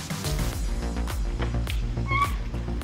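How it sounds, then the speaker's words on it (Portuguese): A cat gives a short meow near the end against a low rumbling outdoor background, with faint clicks and scuffs around it. "Um gato cruzou a rua, hein?"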